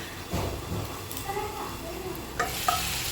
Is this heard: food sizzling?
yes